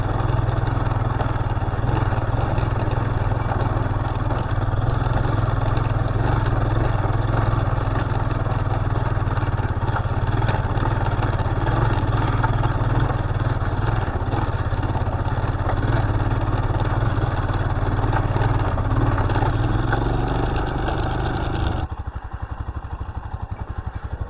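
A Royal Enfield Himalayan adventure motorcycle engine labors loudly and continuously at mid pitch for a long stretch, clattering as it pushes up a dirt hill in the Flinders Ranges, then cuts away abruptly near the end.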